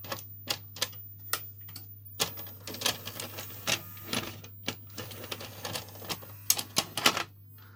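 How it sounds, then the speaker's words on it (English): A Ferguson VideoStar 3V31 VCR under repair, set on its side, loads a tape with a rapid run of mechanical clicks, ticks and whirring clatter, close and fairly quiet over a steady low hum. "So I've reset the mechanism, and if I load a tape"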